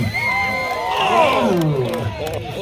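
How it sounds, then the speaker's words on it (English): A rodeo crowd cheers and whoops continuously at a steady, loud level, with shouting voices blending into a wide roar. "Come on, let's cheer them on."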